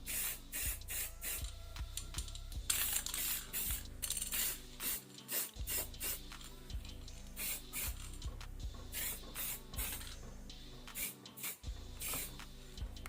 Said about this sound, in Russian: Глянцевый баллончик.